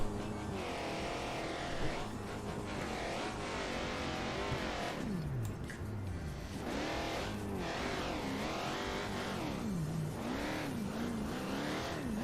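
A rock bouncer UFO car launches at the start of a race, its engine revving hard and rising and falling in pitch through gear changes, loud and continuous over a rumbling background.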